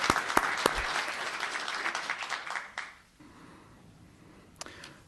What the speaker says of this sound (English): Let's give one more round of applause for Paige Frongzak.